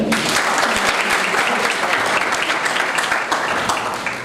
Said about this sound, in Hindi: सब अपने लिए बहुत तालियां दें